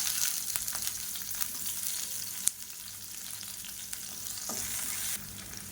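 Garlic, ginger and onion fry in a hot pan for a tomato mint chutney, giving a steady close sizzle with occasional scrapes and clicks of stirring and no voices.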